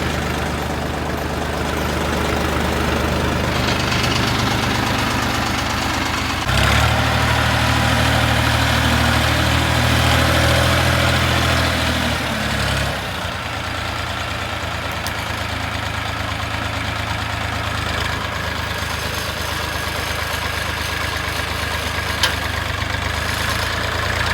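A Scout XT-244 tractor engine runs continuously after ploughing, loud and close, with a deep droning rumble that shifts in tone midway before settling back to a steady idle.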